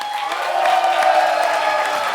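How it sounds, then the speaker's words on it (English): Applause and cheering from a crowd, steady and moderately loud for a couple of seconds, with scattered whoops. "Can we welcome Andrew Yang once again with a well-round applause."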